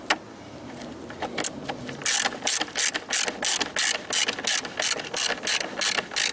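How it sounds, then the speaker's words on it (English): A hand ratchet tightens the battery hold-down nut on a 2007 Saab 9-3, giving quick loud bursts of rhythmic clicking that grow denser over the last four seconds, up close with no talking. "Tighten your hold down nut."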